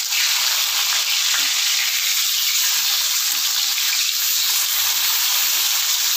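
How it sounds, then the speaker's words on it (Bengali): Rohu fish pieces fry in a pan for a Bengali panch phoron rohu dish, giving a loud, steady, close sizzle that runs unbroken throughout with no voices. "মাছগুলো এক পিস ভাজা হয়ে গেছে, এবার আমি এক এক করে উঠে দেব।"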